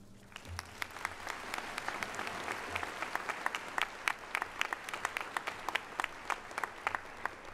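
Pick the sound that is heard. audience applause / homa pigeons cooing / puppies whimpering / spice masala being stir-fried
audience applause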